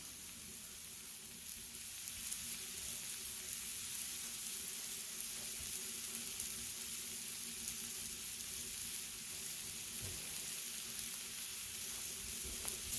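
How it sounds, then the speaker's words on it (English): Sirloin steaks searing on a Blackstone flat top griddle, a steady, even hiss and crackle of sizzling that holds constant for several seconds, moderately quiet and close, with no voices. "these steaks are literally going to soak up those flavors while they're searing up"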